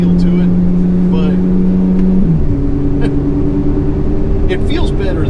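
A customized Chevrolet Corvette C8 Z06 in Z mode drones loudly and steadily close by, its engine tone stepping up in pitch partway through.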